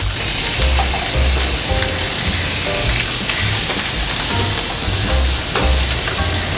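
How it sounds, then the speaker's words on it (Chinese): Fish with crisping skin pan-frying in hot oil gives a loud, continuous sizzle with fine crackling spatter and faint low thumps from the pan. "这个时候才把它翻面。 哦，煎得很漂亮，鱼皮酥脆"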